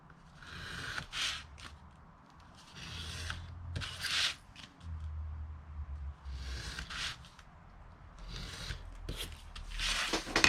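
Scissors cut along the score of a milk carton at an angle, a quiet close-up series of short rasping snips and rubbing papery strokes with brief pauses between them.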